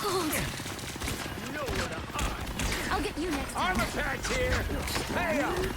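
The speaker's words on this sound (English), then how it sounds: "That's a rocket shooting." Rocket Raccoon fires a rapid, steady stream of shots in a team-based video game match, the rattling bursts running continuously under people talking.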